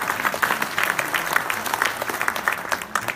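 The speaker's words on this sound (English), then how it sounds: "yes, applause in order" Sustained applause from an audience at a live talk in Toronto in 2017, a dense steady patter of many hands clapping at moderate distance.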